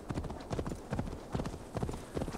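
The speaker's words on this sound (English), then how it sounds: "I saw that donkey and I was confused. I thought it was a weird looking horse." Donkey hooves clip-clop steadily at a walking pace in Assassin's Creed Valhalla, a close, even rhythm of hollow hoof strikes with no talk over them.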